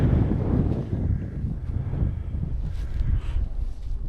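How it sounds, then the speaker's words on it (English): Wind gusts across the mic on a hillside during a morning climb up the Old Man of Storr on the Isle of Skye, a close, low buffeting roar that rises and falls unevenly with no one talking. "The wind's a bit cold this time of the morning"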